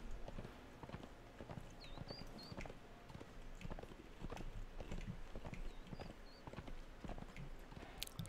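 Horse hooves clip-clop in steady walking rhythm in the survival game Conan Exiles, fairly faint but clear, with occasional light chirps and no talking.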